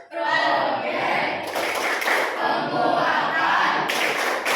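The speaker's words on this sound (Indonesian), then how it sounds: "Tepuk profil belajar Pancasila" Classroom students standing and chanting the Pancasila learner-profile clapping routine in unison, voices ringing together with a few bursts of hand claps and taps near the middle and end.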